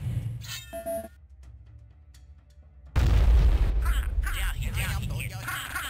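A massive nuclear blast in a video game erupts after a few quiet seconds of sparse tones, a sudden loud rumbling boom that rolls on with crackling debris and sustained low roar, a voice speaking alongside.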